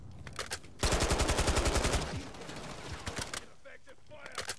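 Bursts of automatic gunfire in a video game shooter, including one loud close rapid-fire stream lasting about a second, surrounded by shorter scattered shots and faint voices.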